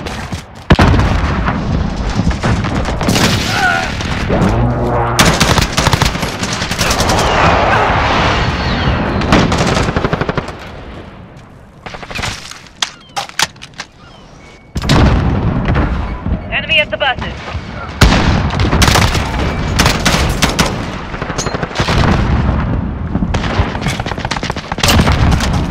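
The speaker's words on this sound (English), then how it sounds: "Be advised, friendly precision airstrike inbound." Loud, dense gunfire and booming airstrike explosions from a Modern Warfare match played with a CAR-15 (M4A1) rifle, with rapid automatic bursts and heavy blasts running almost continuously under in-game radio voices.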